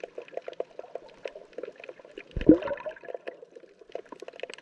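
Solid groundbait hits sea water and sinks, heard from underwater amid fish and reef fauna: one loud splashing plunge with a bubbly rush in the middle, set against a steady crackle of faint clicks and pops.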